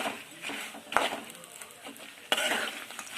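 Peanuts roasting in oil in a pan over a low flame, giving a steady soft sizzle with scraping stir strokes and two sharper clinks of utensil against pan.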